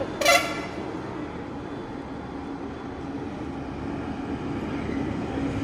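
A train passes during a night walk, its horn blaring briefly at the start before a steady, rumbling roll of rail wagons continues close by.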